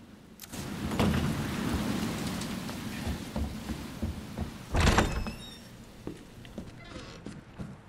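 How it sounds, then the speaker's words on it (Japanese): Heavy rain pours steadily in the survival horror game Resident Evil 2, a dense broadband wash filling the scene, with a brief louder burst midway and scattered thuds and clicks of other game sounds. "めっちゃ雨降ってるやん。"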